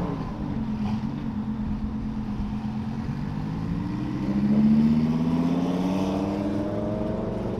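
An Audi R8 passes on an open road, a steady engine drone that swells and rises in pitch toward the middle of the pass, then eases off, with no voices.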